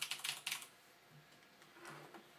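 Quick bursts of clicky keystrokes on a Razer BlackWidow Ultimate mechanical gaming keyboard, close and crisp, with a pause and then a few more taps, no voice.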